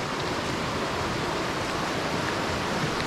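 A river in Devil's Glen forest, County Wicklow, Ireland, rushes steadily and evenly, a broad continuous wash of water noise at close range with no voices over it.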